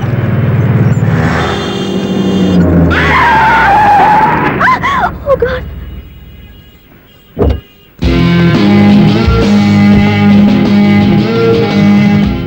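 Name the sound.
car braking hard and skidding on road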